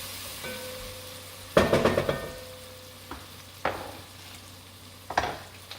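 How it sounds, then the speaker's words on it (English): Bacon rendering in a pot for Saint Helena Island red rice, a soft steady sizzle running throughout, with a burst of loud stirring and pot clatter around the second and a half and a few sharper utensil knocks later. "That bacon's getting nice and rendered down."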